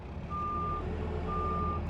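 A smaller truck backing up in Farming Simulator 22 gives two steady reversing beeps over a low engine rumble, fairly close and clear, with no talking.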